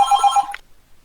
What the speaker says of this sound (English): sorry about the ringing phone